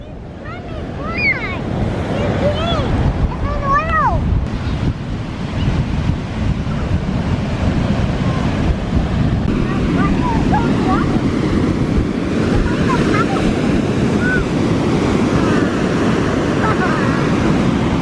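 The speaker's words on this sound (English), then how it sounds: "Isn't this primo surf?" Rough ocean surf on an Outer Banks beach crashes and rolls continuously, loud and close, with wind buffeting the microphone and people speaking over it.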